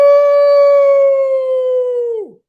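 A man imitates a wolf howl with his voice: one loud, sustained, steady-pitched tone that drops off sharply at the end.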